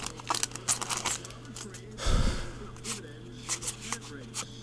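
Baseball trading cards from a 2007 Upper Deck Masterpieces box being shuffled and sorted by hand, with soft repeated flicks and a louder rustling burst midway, under a low steady hum.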